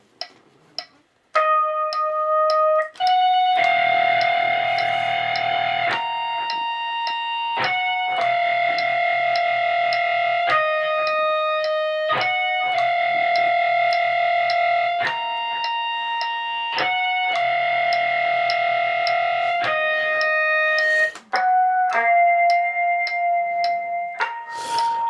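An electric guitar plays the verse into the chorus of a song, sustained chords in distinct blocks with a few short picked notes between them, loud and solo with no voices.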